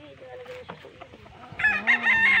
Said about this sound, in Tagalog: Mga manok niya na galing ibang bansa.